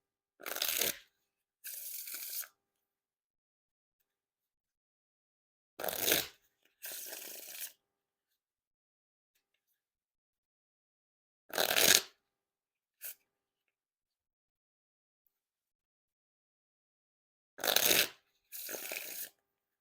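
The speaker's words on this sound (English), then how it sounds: "And now time for the riffle shuffle or bridge shuffle." Riffle shuffles of a Deck Starter playing card deck by Dan and Dave, each a quick ripping flutter followed by a softer burst as the cards bridge back, repeated four times with quiet gaps.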